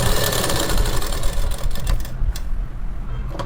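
A sewing machine stitches a blouse, running continuously with a steady mechanical whir and rapid needle chatter, close and loud throughout.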